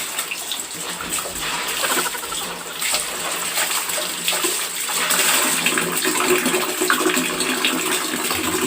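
Laundry being rinsed in water, a steady splashing and sloshing with running water that swells slightly louder midway, close by and without talk.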